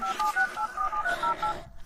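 A phone number is dialed as a quick, even series of touch-tone beeps, about a dozen in a row, clear and close, ending in a brief hush.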